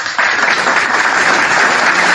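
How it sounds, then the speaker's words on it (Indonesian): Loud, steady audience applause during a talk session, a dense wash of clapping from many hands that begins abruptly and holds at full level without letting up. "saya kira sesi ini saya patut mendapatkan tepuk tangan lagi"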